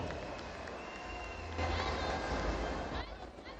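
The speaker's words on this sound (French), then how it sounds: "Applaudissons pour le MLPC nouvelle version." A large crowd at a party congress in Bangui, Central African Republic, applauds in a steady, dense wash of clapping and murmur, which swells louder midway before easing slightly at the end.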